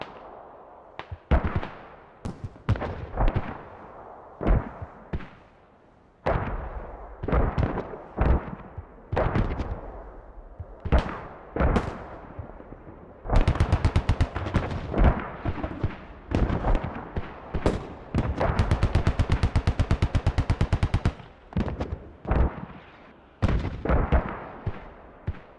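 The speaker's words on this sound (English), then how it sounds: "Any mortars are inside mosque. Shooting out to checkpoint." Mortar blasts and gunfire in the tactical shooter Squad during a trench-bound siege battle, a dense run of sharp, loud booms and cracking shots, some distant and some close, firing in irregular bursts with a heavy flurry midway.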